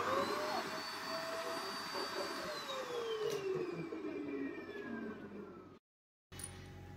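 A loud vacuum cleaner drones with a whining tone that slides downward in pitch, then cuts out briefly before resuming. It serves as dust extraction on a LEAD CNC 1515 router milling MDF.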